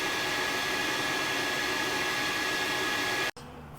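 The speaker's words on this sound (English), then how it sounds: "So it's just getting rid of all the water that's in the hose, sucked it all in, and now it's pumping it all out." Scupper pump and vacuum of a Mississippi recovery system pumping water out of a hose, a loud steady broadband roar with a faint whine that runs continuously, then cuts off abruptly near the end.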